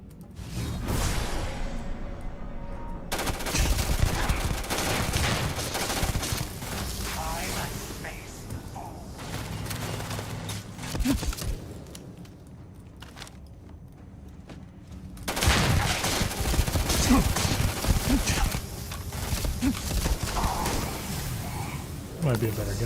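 Gunfight in Starfield: bursts of rapid gunfire and blasts with whooshes, loud and dense for long stretches, easing off briefly mid-way before erupting again, with someone talking over parts of it.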